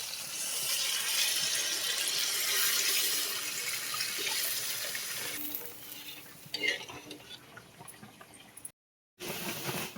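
Water is poured into a pan of oil-releasing fried masala with coriander powder for a Bengali fish curry, giving several seconds of loud hissing sizzle and splashing, then softer stirring and clinks before a brief silence.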